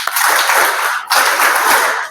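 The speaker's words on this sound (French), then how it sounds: "je vous demande d'applaudir pour Monsieur Moussa Mariko" Audience applause at a closing ceremony of a training camp at a sports high school, a dense, steady clatter of many hands that dips briefly midway and then swells again before fading.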